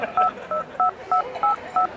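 A telephone number is dialed on a keypad, giving six evenly spaced two-tone beeps in a quick, regular rhythm, close and clear with nothing else heard.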